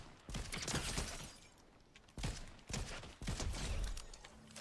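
Gunfire in the video game Fortnite comes in several sharp bursts of rapid shots separated by short pauses, crisp and fairly close, with no talking.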